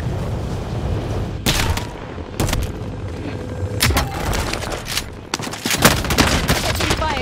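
Dense volleys of hostile gunfire in a video game, sharp overlapping shots and booms crackling in bursts throughout, with loud impacts standing out over a steady noisy battle background.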